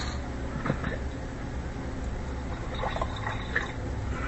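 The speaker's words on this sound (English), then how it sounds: "Gonna add just a little bit of water to this now." About a cup of water poured into pulpy blended carrot soup, a soft continuous trickle with small splashes and drips, close and moderately quiet.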